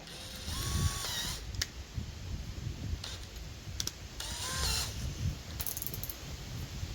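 A DeWalt 12V Extreme cordless drill runs at speed 2 in drill mode on a full battery, with short bursts of motor whine and mechanical clicking close by, separated by pauses.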